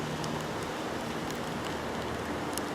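Steady rain coming down outdoors on a calm, nearly windless morning, a continuous soft hiss of drops with a few brighter patters, moderately loud and with no voices.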